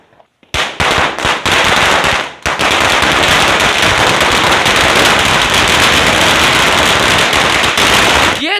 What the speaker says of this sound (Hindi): एक लड़ी भी छुटा दी उन्होंने तो।